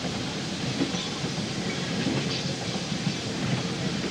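A train rumbles steadily along the rails with a broad, continuous roar and faint rhythmic clacking, no voices present.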